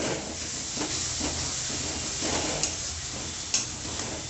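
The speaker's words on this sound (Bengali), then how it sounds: "মশলাটাকে আমি কষে নেব।" A paste of ground cumin, coriander, ginger, green chili and garlic fries in a pan for a paneer dish, giving a steady, close sizzling hiss with a few soft sputters.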